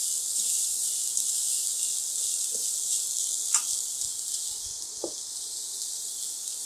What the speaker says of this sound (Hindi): 100 ग्राम हरा प्याज, थोड़ा सा सोते करना इसे।